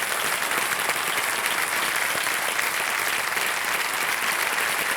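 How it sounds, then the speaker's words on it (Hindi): Studio audience on a televised quiz show clapping loudly and continuously, a dense, even wash of applause from a large crowd with no pauses. "जोरदार तालियां बज जाए अमित सिन्हा जी के लिए।"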